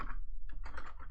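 A computer keyboard is tapped in a quick run of keystrokes while a password is entered on a Linux system. The short, clicky burst is close and distinct, with no voice over it.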